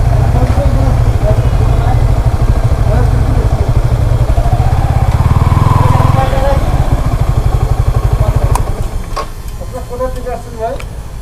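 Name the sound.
motorcycle engine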